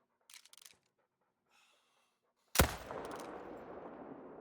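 A single loud, close 30-06 rifle shot in theHunter Call of the Wild, a sharp crack that rolls into a long, fading echo, preceded by faint rustling and quiet breathing.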